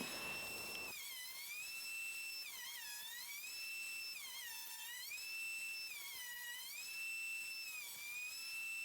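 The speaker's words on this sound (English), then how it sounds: "The planer worked really well, and I suppose I didn't need to show this, but here it is anyway." A wood planer runs steadily with a high, whining tone whose pitch sweeps down and back up several times in a repeating pattern, fairly quiet and alone.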